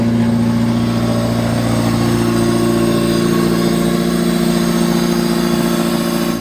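A Honda del Sol's engine idles steadily and fairly loudly up close, a continuous even drone with a buzzing vibration and no talk over it.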